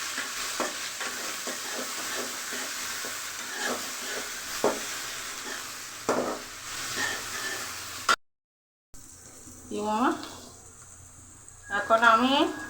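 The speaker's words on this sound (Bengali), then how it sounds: "লঙ্কা এখন দিয়েছে আমার গায়ে তেল ফুটে পড়বে" Chillies frying in hot oil, with a steady sizzle and spattering crackle under scattered stirring clinks, a brief gap, then a voice speaking over the frying.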